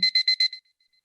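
Four quick, high-pitched electronic beeps in an even rhythm, followed by a fainter fading tail and near silence.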